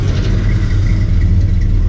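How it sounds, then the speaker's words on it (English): A loud, steady 1984 Ford F-150 pickup truck engine rumbling close by at a low idle, deep and throaty with no pauses. "now he just cranked it up again"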